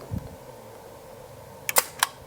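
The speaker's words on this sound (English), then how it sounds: "Cock the shutter. Let's listen to it." Film camera shutter firing: a soft mechanical thump followed by two sharp, close metallic clicks in quick succession, crisp against a quiet room.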